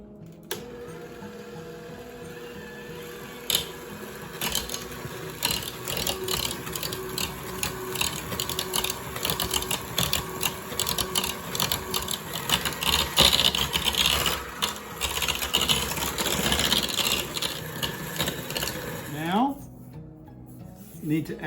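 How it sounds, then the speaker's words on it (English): An electric hand mixer whirs while beating cake batter of sugar and oil, a busy mechanical buzz with rattling, uneven bursts that ends abruptly near the close. "Now I'm going to use the mixer here."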